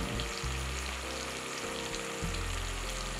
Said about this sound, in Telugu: ఆల్రెడీ నానబెట్టి పెట్టుకున్న బాస్మతి రైస్ని మరుగుతున్న నీళ్ళలో వేస్తున్నారండి.